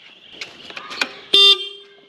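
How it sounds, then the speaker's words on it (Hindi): A few light clicks and taps, then one loud, short car horn honk, close by. "चलो हॉर्न बजाओ, जाओ जाओ हॉर्न बजाओ"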